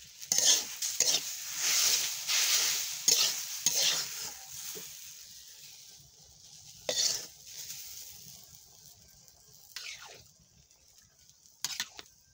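Garlic sizzles in hot oil in a home kitchen pan while a utensil stirs and scrapes, loud bursts of frying that fade to quieter sizzling.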